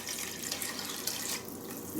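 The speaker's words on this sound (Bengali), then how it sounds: "তিন কাপ পানি দিচ্ছি।" Water pours steadily into a cooking pot of beef and chickpea dal, a close, continuous splashing gush with no talk over it.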